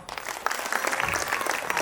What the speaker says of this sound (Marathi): तुम्ही सगळ्यांनी त्यांच्यासाठी टाळ्या वाजवा